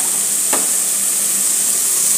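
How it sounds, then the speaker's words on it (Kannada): Black-eyed peas hit a hot pan and set off a loud, steady sizzle, a bright hiss that stays constant throughout after a brief soft thud as they drop in. "ಈಗ ನಾನು ಇದಕ್ಕೆ ಅಲಸಂದಿ ಕಾಳನ್ನು ಹಾಕ್ತೀನಿ"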